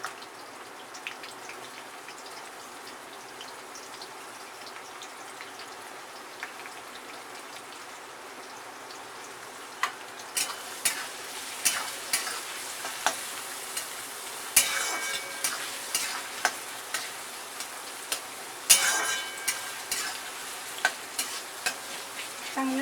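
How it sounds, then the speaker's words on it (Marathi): Finely chopped onions fry in hot oil with mustard and cumin seeds for misal pav, giving a steady low sizzle that later gains sharp crackles and the scrape of stirring, with no voices. "चांगलं लालसर असं भाजून घ्यायचा कांदा."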